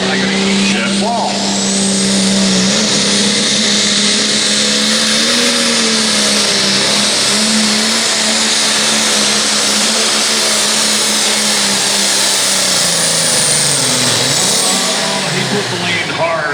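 A turbocharged pulling truck roars continuously during a tractor pull in Monticello, Iowa, its engine loud and sustained, with a brief pitch dip near the end and a voice speaking over the din.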